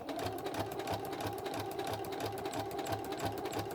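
A sewing machine stitches quilt binding in the ditch, running in a steady, even rhythm of rapid needle strokes, close and continuous with no talk.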